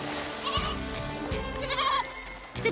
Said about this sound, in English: Pups, the goats are on the beach.